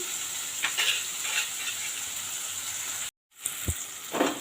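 Tomatoes sautéing on low heat in a pan for a tamarind curry give a steady, soft sizzle, broken by a brief silent gap and a couple of louder stirring clatters near the end.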